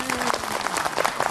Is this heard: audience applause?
yes